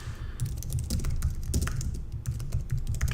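Quick, steady typing on a computer keyboard as call-to-action text is entered, a close, crisp run of key clicks with brief pauses and no talking.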